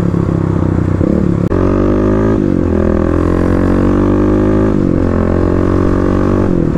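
Several supermoto motorcycles ride together along a highway near downtown Portland, their engines droning loudly and steadily with layered tones that dip briefly as riders shift gears, with no speech.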